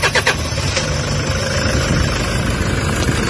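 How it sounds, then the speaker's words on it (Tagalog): Toyota HiAce van engine idling in neutral with a check-engine fault and low power, a loud, close, steady rumble with heavy shaking vibration after a brief start-up burst, no talk over it. "umaandar yung makina. Ang lakas ng vibrate."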